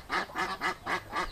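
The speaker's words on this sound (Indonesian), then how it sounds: "bunyi bebeknya" Ducks in a village pen in Garut, West Java, give five rhythmic, evenly spaced quacks in quick succession, close and clear against quiet surroundings.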